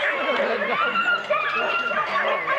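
Excited sled dogs from the Seavey kennel yip and whine steadily while they are tied up, with people talking over the noise.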